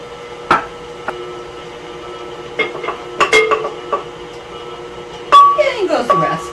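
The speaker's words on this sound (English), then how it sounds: "we're just going to continue to mix this until it starts to come together" Shortbread cookie dough being mixed with flour in a bowl, with scattered clinks and scraping taps of utensil against the bowl, growing busier toward the end, under a steady low hum with a voice talking.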